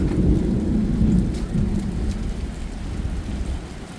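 Steady rain pours down with a continuous low thunderous rumble throughout, loud and close, no voices.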